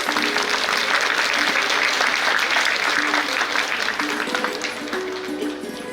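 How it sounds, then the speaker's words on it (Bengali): Loud, sustained audience applause at a school award ceremony, dense clapping that fills the whole stretch with steady intensity and tapers slightly near the end. "জোরে হাততালি হয়ে যায়"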